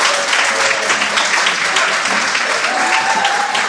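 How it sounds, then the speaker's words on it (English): An audience gives a sustained round of applause for event staff at a community talk, steady and dense clapping throughout. "we really need to give a huge round of applause to our incredible staff"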